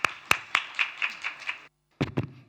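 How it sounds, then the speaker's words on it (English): A sparse round of hand claps at an afternoon conference session: seven quick, evenly spaced claps that fade a little, a brief silence, then a few more claps. It sounds more like a thin scattering of clapping than a full crowd. "Please give them a round of applause as we begin."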